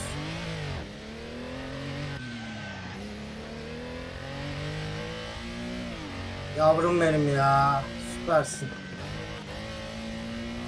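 An old Porsche 911 engine in the Assetto Corsa racing game, driven with an Oculus Rift, drones steadily as the revs climb and fall through gear changes. Someone talks excitedly over it.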